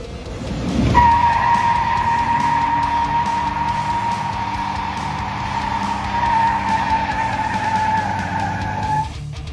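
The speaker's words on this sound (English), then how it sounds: "I know that was a pretty mediocre little burnout" A 1986 Chevrolet El Camino running on two cylinders squeals its tires loudly in a sustained burnout, a high screech held over a revving engine for several seconds.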